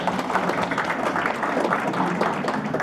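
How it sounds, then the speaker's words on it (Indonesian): An audience at a national food-security seminar claps steadily for Pak Andi, a dense, even wash of applause filling the room from start to end. "Kita beri aplaus untuk Pak Andi."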